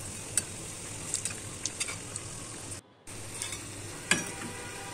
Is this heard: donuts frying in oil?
yes